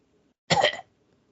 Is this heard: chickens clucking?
no